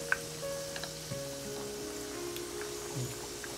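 Vegetarian roast-pork-style pieces for bún mắm chay fry in a pan, giving a soft, steady sizzle with faint crackles over a low background hum, with no voices.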